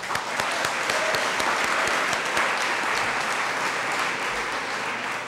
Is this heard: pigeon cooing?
no